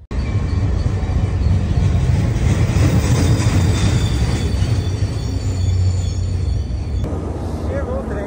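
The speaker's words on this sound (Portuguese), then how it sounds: "Chegou o trem." A train arrives at a station in San Francisco, with a loud, close rumble of wheels and carriages, squealing rails and a rising metallic whine before the noise cuts off near the end.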